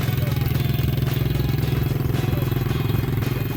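A Forte Shark 125 youth ATV with an automatic transmission runs loud and close after its electric start, its small engine putting out a steady, rapidly pulsing idle with metallic clatter throughout.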